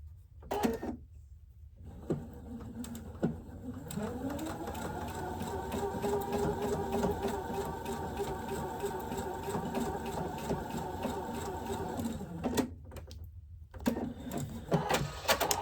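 A sewing machine stitches a seam on a quilt block, whirring steadily and close by for several seconds between shorter start-and-stop bursts, with no one speaking.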